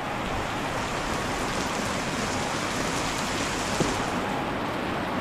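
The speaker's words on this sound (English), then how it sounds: "The rain is the way it's kind of coming across." Steady rain falls in Phu Quoc, Vietnam, a dense, even hiss of drops on surfaces that holds constant and close throughout, with no voices.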